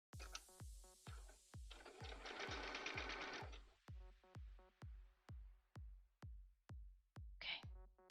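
A sewing machine motor runs as the foot pedal is pressed, steady rhythmic stitching pulses throughout with a denser burst of rattling in the middle and a brief whir near the end, close and fairly loud.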